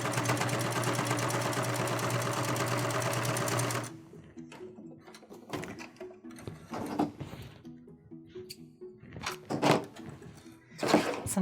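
Sewing machine stitching a fabric face mask, running steadily and loudly for about four seconds, then stopping, followed by quieter handling clicks and knocks of fabric and the machine.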